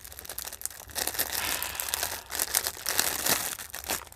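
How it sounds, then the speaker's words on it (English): Packaging crinkles and rustles almost continuously while jewelry is unboxed, loud and close, with brief crackling bursts. "Like that crinkling?"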